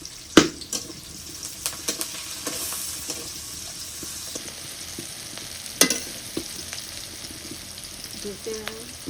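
Garlic and green chillies fry in oil in a wok for a rural Bangladeshi greens curry, a soft sizzle under scattered clanks and scraping stirs, with a few louder knocks and a faint voice near the end.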